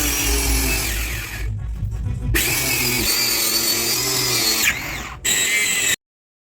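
A power tool cuts a piece of ceramic tile for a skirting strip, producing a loud, continuous grinding whine that dips briefly twice before cutting off abruptly near the end.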